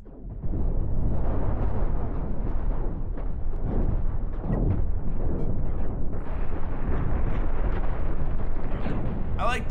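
A missile volley in the space game Cosmoteer sets off dense, continuous rumbling explosions, with many overlapping booms and bursts at high level for several seconds.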